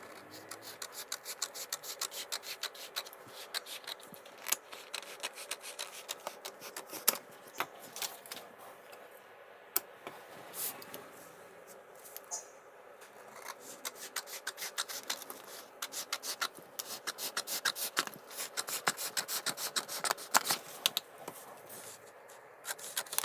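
Scissors cut along a marked fabric pattern for a size 44 garment, giving a faint, irregular run of close snipping and rasping strokes throughout, with no voices.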